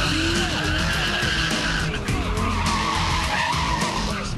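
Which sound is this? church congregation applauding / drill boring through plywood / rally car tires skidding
rally car tires skidding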